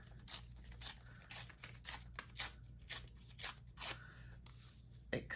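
Paper torn by hand into rough grass-like strips for an art journal page, heard as a regular string of short, sharp ripping bursts up close, each separated by a brief pause.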